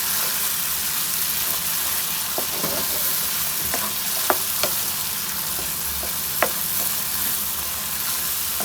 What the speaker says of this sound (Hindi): पाँच मिनट तक हमने इसको ये देखिए अच्छी तरह भून लिया है।